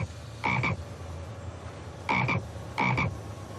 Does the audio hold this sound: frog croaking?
yes